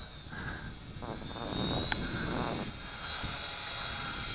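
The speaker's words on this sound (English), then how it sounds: "let me bring it down into hover and we'll take a close look at the quadcopter in hover" XinXun X-53F FPV quadcopter drone hovering outdoors, a steady whirring motor drone held through the whole stretch, moderately near with wind noise underneath.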